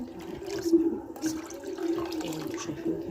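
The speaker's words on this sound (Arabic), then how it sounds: "دلوقتي معانا حله على النار، هنحط فيها ميه." Water pouring into a pot set on a gas stovetop in a home kitchen, a steady moderate liquid rush lasting the whole moment with no talking over it.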